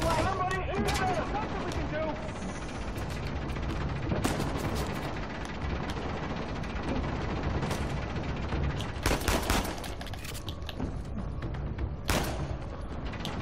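Dense, sustained gunfire and bursts of shots fill a combat scene in the video game Uncharted: The Lost Legacy, with a voice talking over the battle noise throughout.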